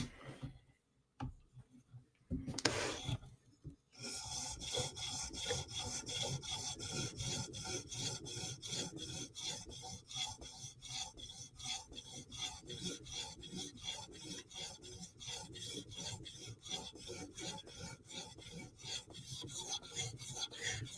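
A Chris Reeve Umnumzaan tanto blade rasps back and forth across a 2000 grit sharpening stone in fast, even strokes, close and steady after a few scattered opening scrapes.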